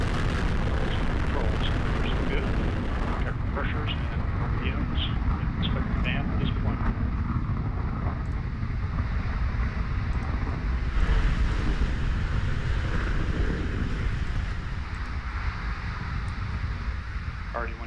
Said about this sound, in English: liftoff of the Atlas V